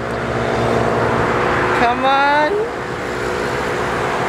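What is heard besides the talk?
highway traffic noise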